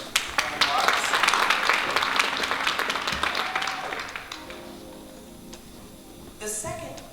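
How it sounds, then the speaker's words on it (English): Applause for a performing arts center at a community showcase event, a burst of clapping that swells quickly then tapers off over a few seconds, followed by a voice and a brief sound near the end. "So please give a clap for Bowie Center for Performing Arts."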